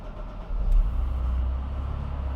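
A supercharged AP2 Honda S2000 engine idles steadily during tuning, a low, continuous rumble close to the mic with a slight swell partway through and no talking.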